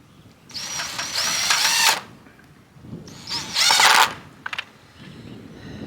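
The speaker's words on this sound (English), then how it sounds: "can be a challenge screwing these in around the hardware cloth" A power drill drives screws through hardware cloth into chicken coop door hinges: two loud whirring bursts of about a second and a half each, then a few quick clicks, all close and with no speech.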